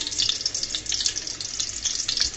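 Chopped garlic frying in hot oil in a pan for a Bengali Malabar spinach dish, giving a steady, bright sizzle with crackling pops throughout, close and fairly loud with no talk.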